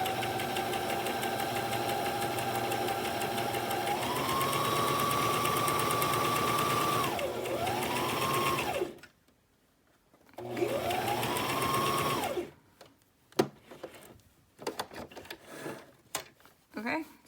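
An electric sewing machine running a straight stitch, with a loud steady motor whine that rises and dips in pitch, stops briefly, then starts again before giving way to rustling and handling noises.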